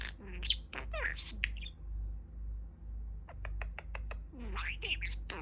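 A pet budgie parakeet gives a short series of quick, bright chirps close by, set between stretches of a person's soft speech over a steady low hum.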